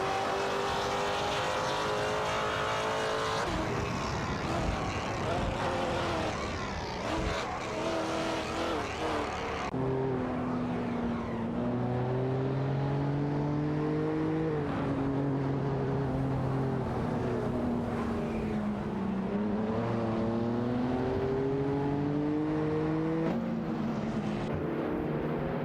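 Race cars including a BMW M4 and a Ferrari Portofino roar through a video game race, loud continuous engine drones shifting pitch as cars pass, with one dominant engine note climbing and falling through gear changes.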